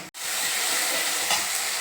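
Onion and garlic paste sautéing in hot oil for a tempering, a loud continuous sizzle and hiss after a brief drop at the start, with faint stirring scrapes.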